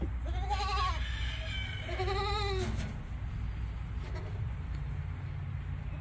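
Baby goats on a homestead during kidding season bleat in two quavering, wavering cries close by, followed by quieter bleating over a steady low rumble of background noise.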